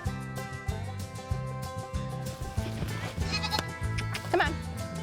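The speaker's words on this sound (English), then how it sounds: "So this is 31 baby goats we have here." A goat farm holding a large herd of young goats, with repeated bleats from several animals overlapping in a busy chorus, some close and some farther off, over a little faint background talk.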